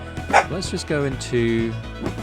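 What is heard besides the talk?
Dachshund dog barking at a neighbour outside the window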